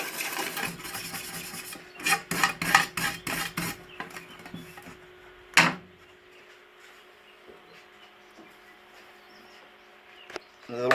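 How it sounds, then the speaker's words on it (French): Wire brush scrubbing a fresh MIG weld on metal, bursts of quick rasping strokes in a rhythmic run, then a single louder scrape and a few faint rubs before quiet. "Donc après on met un coup de brosse dessus."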